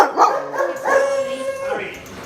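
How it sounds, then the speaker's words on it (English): Small female dog, smaller than a beagle, giving a short run of yips and whiny barks that rise and fall over about two seconds, close to the listener. "She's a sweet, gentle little dog."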